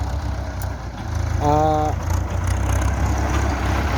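A Ford 6600 tractor fitted with a three-disc plough runs steadily in hard soil, its engine a low continuous rumble that swells briefly with a rising tone; someone talks over it.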